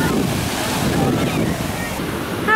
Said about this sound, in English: We're at the beach. Why is it so windy?